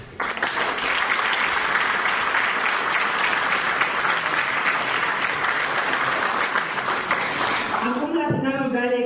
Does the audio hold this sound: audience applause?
yes